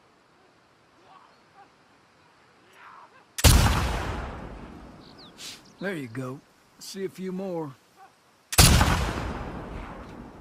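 Two loud, sharp sniper rifle shots from The Last of Us Part II, each with a long echoing tail, separated by a few seconds while people talk in between.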